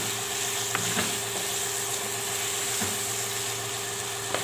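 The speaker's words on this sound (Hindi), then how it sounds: "अच्छे से भूनेंगे इसको" Spices roasting in a pan on a medium flame for a wild melon (kachri) and potato curry, giving a steady low sizzle and frying hiss with a few faint stirring scrapes, close and continuous.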